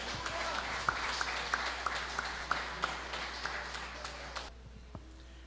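A church congregation claps in praise, a fairly soft spread of hands with a few distinct claps punctuating it, fading out toward the end over a steady low hum.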